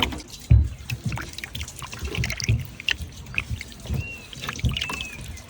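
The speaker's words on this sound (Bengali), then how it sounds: "মিষ্টি কুমড়োটা ছুলে নিয়েছি তো এবার আমি ধুয়ে নেব" Water splashes and trickles over a peeled sweet pumpkin being washed, with irregular close splashes, drips and a few sharper knocks against a vessel.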